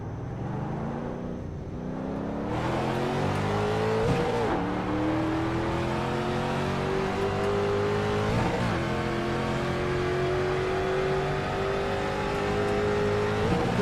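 A race car engine in iRacing revs and accelerates continuously, rising in pitch through gear changes, loud and close, with brief bursts of tire noise.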